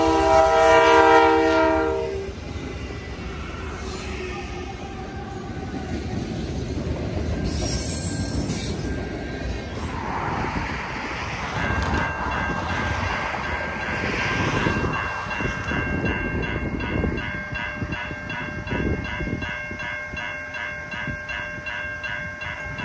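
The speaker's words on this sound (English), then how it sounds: "a four locomotive train pulling 183 rail cars" Long freight train hauled by four locomotives and 183 rail cars rolls past at a crossing on the Newmarket line, with loud continuous wheel rumble, squealing and clanking wagons, and a horn blast near the start.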